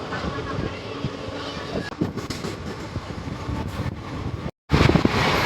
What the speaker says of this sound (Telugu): ట్రైన్ చాలా స్పీడ్ పోతున్నాడు